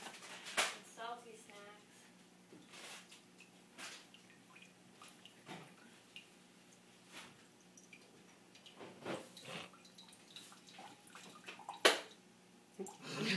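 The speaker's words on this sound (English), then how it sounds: "I tried to see how high I could let it drip from." Coconut water drips and splashes from a cracked coconut as a faint, irregular series of small wet drips and squishy splats, with soft handling noises between them.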